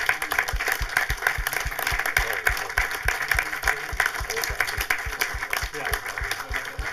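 Audience at a German film talk applauds former staff members, a steady, fairly dense patter of clapping, moderately distant, with a low rhythmic thumping and a speaking voice under it.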